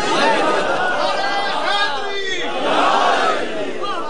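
A crowd at a Shia majlis memorial gathering shouts religious slogans together, a dense roar of many voices rising and falling in waves throughout.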